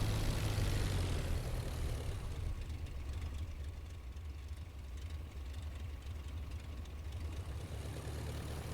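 A simulated aircraft engine in the IL-2 flight game drones low and steady while the plane taxis, a rumbling idle with a faint propeller hum and no voices.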